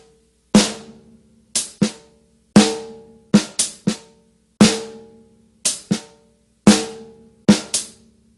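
Drum beat with softer snare ghost notes and hi-hat mixed between sharper, louder snare strikes, in a steady groove of sparse, decaying hits with no voices.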